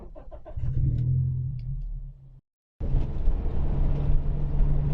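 A Toyota Celica's engine runs and its exhaust burbles steadily, cuts out briefly to silence, then restarts into a fuller, rougher idle rumble close by.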